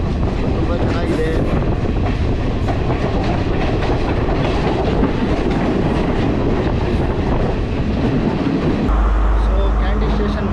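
A passenger train running on the Colombo to Kandy line in Sri Lanka, a loud, steady rumble and rattle of wagons close by that continues throughout and shifts to a deeper, smoother roar near the end.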